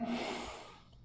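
A slow, audible inhale during a tai chi exercise, a soft close breath of air drawn in that fades gradually over about a second.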